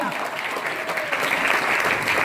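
Enthusiastic applause from a school audience at a cleanliness-themed quiz programme, a dense clapping wash with voices mixed in.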